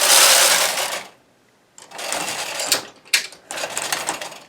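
Knitting machine working a double jacquard chevron scarf, loud rasping carriage passes with mechanical clatter, a brief pause, then more passes with sharp clicks.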